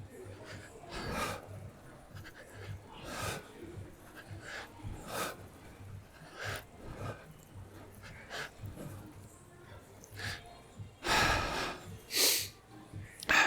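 Heavy breaths come in bursts during a pull-up workout, rhythmic snorting inhales and exhales near the mic with a loud gasping cluster toward the end.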